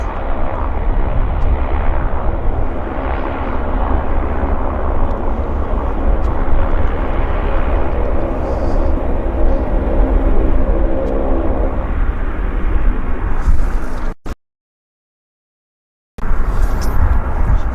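A Westjet commuter plane operated by Pacific Coastal arrives at Vancouver airport, its loud propeller-engine roar droning steadily and near for about fourteen seconds before a brief dropout, then resuming.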